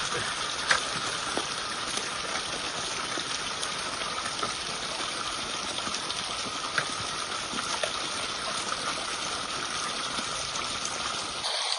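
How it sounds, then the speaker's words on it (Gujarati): Irrigation water runs out of a pipeline into a groundnut field in a steady, unbroken gush with small splashy ticks, heard alone with no talk. "અમે આ પાઇપલાઇનમાંથી પાણી કાઢી અને કરતા હોઈએ છીએ"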